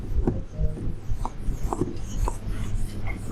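A marker writes on a classroom board in short, quick, scratchy strokes, close and fairly clear, with a little faint background noise.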